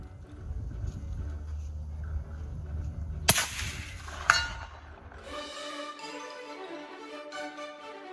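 A single sharp rifle shot from a Smith & Wesson 1854 fired at 200 yards, followed by a second crack about a second later, then a bright ringing metallic ping trailing off.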